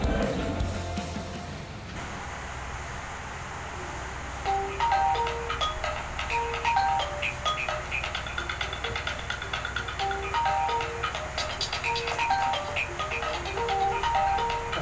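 A telephone rings in a Sundanese comedy sketch, repeating electronic ringtone tones in a steady pattern over a busy background, starting after a brief louder noise at the opening.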